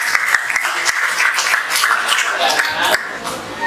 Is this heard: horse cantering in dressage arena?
no